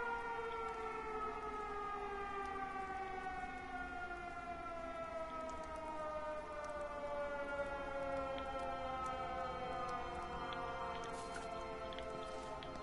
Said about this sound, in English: there's a lot of the air raid siren